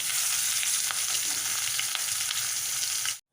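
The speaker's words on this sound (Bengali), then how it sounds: "একইভাবে আর একটা মাথাও আমি ভেজে নেব।" Fish heads frying in oil for Bengali muriganto, a loud, constant close sizzle with faint crackles that cuts off abruptly at the end.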